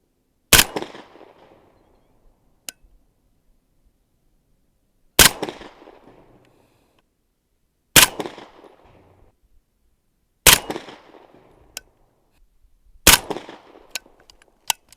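A Vityaz KP-9 rifle firing five rounds of 124 grain full metal jacket ammunition at a range: five sharp, loud shots spaced a few seconds apart, each ringing out with a short decaying echo.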